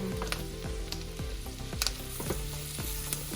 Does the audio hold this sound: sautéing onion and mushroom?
yes